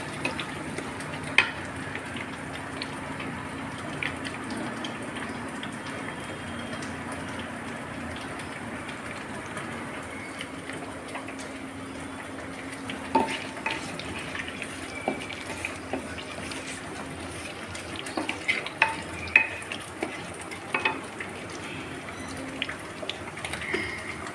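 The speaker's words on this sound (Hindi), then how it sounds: "गरम मसला टिके फ्राई करिया।" Garam masala frying in a hot pan while being stirred for chicken biryani, a steady low sizzle with scattered scraping clicks from the stirring, close and continuous with no talking.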